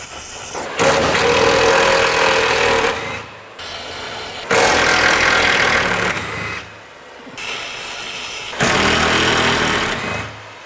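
An oxy torch cuts away a broken stabilizer bar under an Integra Type R, giving three long loud roaring hisses separated by brief pauses, close to the microphone.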